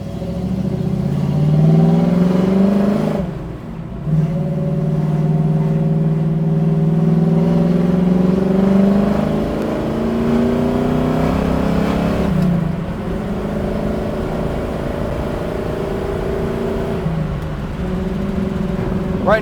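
A 1967 Chevy Camaro RS engine accelerating from inside the car, a loud rising drone climbing through the gears with brief dips at each shift, under occasional talk.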